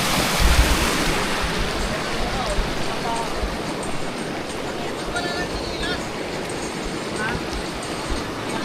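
Rushing water from a river waterfall, a loud, continuous broadband roar that holds steady throughout with no breaks.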